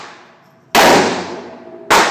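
Two sharp, loud gunshots from a firearm fired close by, the first followed about a second later by the second, each with a decaying ring and no talking.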